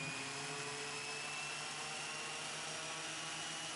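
Steady, droning engine run-up of the Raptor prototype aircraft parked on the ramp, a constant broadband roar with faint tonal whine, heard alone without talk.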